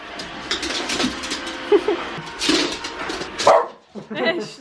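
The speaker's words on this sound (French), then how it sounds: "C'était sûr qu'il allait aboyer." A dog barks a few times amid household sounds, with people talking around it and other brief noises mixed in.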